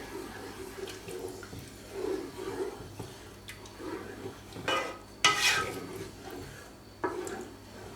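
Squid ink being stirred into hot octopus broth in a pot: soft, faint swishing and liquid sloshing with occasional light clinks of a utensil against the pot, close and quiet, no talking.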